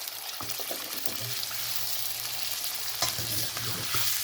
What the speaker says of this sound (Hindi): इसको अच्छी तरह भून के गोल्डन करना है